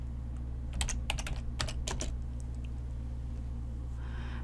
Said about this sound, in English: So we need to type dot copy.